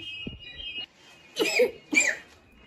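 A child coughs in two short bursts, fairly close, separated by a brief pause, with a faint high whine and quiet room noise in the background.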